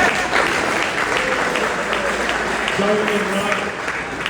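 Parents and guests clapping at a high school baseball awards event, a steady crowd of hands applauding in a room while a voice speaks over it and a few voices call out.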